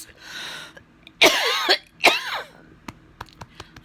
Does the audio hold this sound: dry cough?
yes